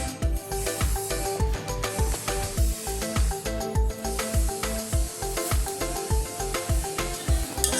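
Grated mango being mixed with salt by hand, a steady, rhythmic wet rubbing and squishing that repeats in quick, even strokes close up, with no talking.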